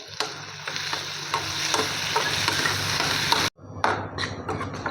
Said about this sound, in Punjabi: ਹੁਣ ਕੱਟੇ ਹੋਏ ਆਪਾਂ ਚੁੱਬੜ ਪਾ ਦਾਂਗੇ ਇਹਨਾਂ ਨੂੰ ਵੀ ਆਪਾਂ ਹੁਣ ਭੁੰਨ ਲਾਂਗੇ